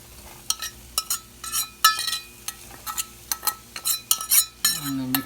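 Cooked mussels are stirred into masala in a pan, a utensil scraping and clinking against the metal in an uneven rhythm, close and fairly loud, with a light sizzle underneath and no speech.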